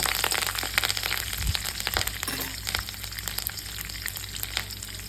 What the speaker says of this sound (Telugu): ఎల్లుల్లిపాయలు కొద్దిగా కరివేపాకు వేసి కలుపుకొని